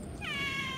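A single drawn-out meow from a cat at a lakeside fishing spot after a storm, rising then holding steady, fairly faint and close against a soft background hiss.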